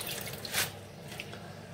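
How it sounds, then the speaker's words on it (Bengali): Red amaranth leaves are rinsed under running water, a soft steady trickle and splash with one brief louder gush, close and quiet with no talking. "তো লাল শাক ধুচ্ছি।"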